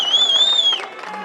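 A crowd at a high school football game between Osage and Forest City roars in a continuous mass of cheering that fades after a moment, with a shrill whistle-like tone riding over it at first.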